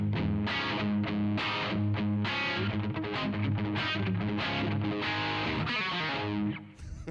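A Gibson SG electric guitar through a Mojotone Studio One amp, played dry with no reverb, giving a distorted, punchy riff of repeated chords and notes that fades out near the end.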